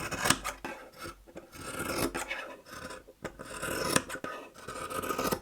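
Scissors cutting fabric for a bow-shaped cushion, a steady run of close rasping snips and scraping of shears against a table, uneven in rhythm, with no talk.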